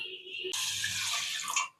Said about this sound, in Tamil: கொஞ்சமாக தண்ணி விட்டு நல்லா பிசையணும் பிசைஞ்சு கழுவுனீங்கன்னா